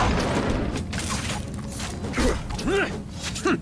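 Fissure spell attack in the Venetian tactical game Masquerada: Songs and Shadows, grinding, creaking rumbles and cracking impacts in bursts, with short voiced cries toward the end.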